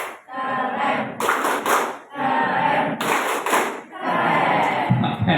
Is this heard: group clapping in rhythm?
yes